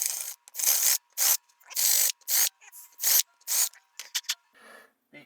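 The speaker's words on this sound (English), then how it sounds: "So we're just going to use a countersink tool here." Countersink bit grinding into the back of a wooden plaque in a series of short rasping bursts, about a dozen strokes of varying length separated by brief pauses, close and fairly loud with no talking.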